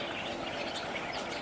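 Birds chirp faintly beside a river, brief tweets over a steady low background hum from a nearby running water pump.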